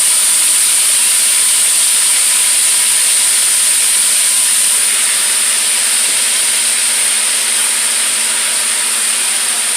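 Collard greens sizzle in hot oil in a pan, giving a loud, steady, unbroken hiss that stays even and close for the whole stretch with no voices.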